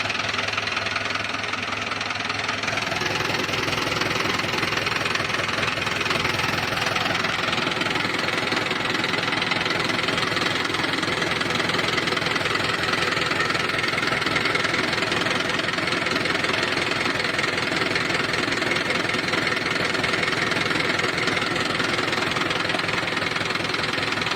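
A Swaraj 841 XM tractor engine idles with a loud, continuous diesel knock and rumble, steady and close throughout without pause.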